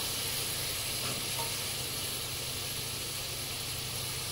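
Prawns and potato fry in a ground masala, giving a steady, close, loud sizzle with a faint hiss of steam. It runs unbroken and no one speaks.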